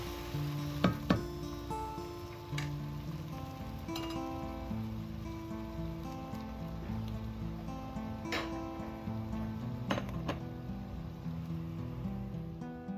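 Cooked mushrooms sizzling gently in a pan with the cooker just turned off, a soft steady crackle with a few sharp clinks and taps of a utensil against the pan, no voices.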